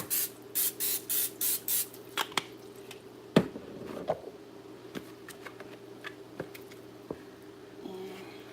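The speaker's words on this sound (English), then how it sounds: "We're going to spray." Cooking spray misted onto a waffle iron before chocolate chip waffle batter goes in, heard as several short, close, rhythmic hissing bursts followed by scattered small ticks and clicks.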